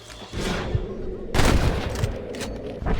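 Rapid gunfire bursts ring out in the Red Dead Redemption western video game, loud close volleys of overlapping shots with a heavy blast near the middle, mixed with shouting voices.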